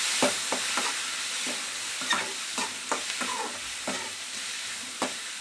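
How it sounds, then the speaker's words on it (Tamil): Onion and tomato sautéing in a pan, heard as a steady low sizzle broken by repeated scraping stirs of a spoon, close and moderately loud, with no talking. "வெங்காயம், தக்காளி எல்லாமே சேர்த்துக்கலாம். சேர்த்துட்டு இது நல்லா வணக்கிக்கலாம்"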